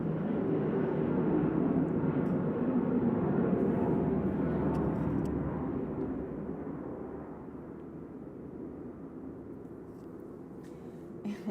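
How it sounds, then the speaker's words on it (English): A large airplane passes overhead as a broad, steady jet roar that is loud at first and then slowly fades over about eleven seconds, with no talk. "Oh, there's a big plane going overhead."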